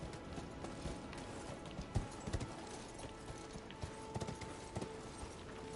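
Horse galloping in the Elden Ring video game: a quiet, steady patter of hoofbeats at a running pace, with occasional heavier thuds and faint mechanical clinks beneath, continuous and without talk.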